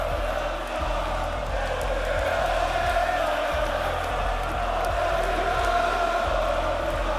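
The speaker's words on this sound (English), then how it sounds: "Everyone's cheering for you right now" Arena crowd at a CS:GO Major final roaring and cheering in a steady, dense wall of voices, loud and continuous with rhythmic chanting pulses underneath.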